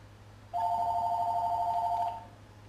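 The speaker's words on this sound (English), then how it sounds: "Phone is ringing." A telephone rings once with a steady electronic tone lasting about a second and a half, in a Call of Duty Black Ops 2 Zombies match, loud and clear over a low background hum.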